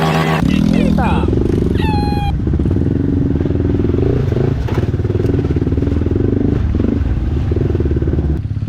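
An off-road enduro motorcycle engine idles and revs close by on a hard enduro trail, a steady throbbing drone with clatter and a rising rev early on, while people talk over it.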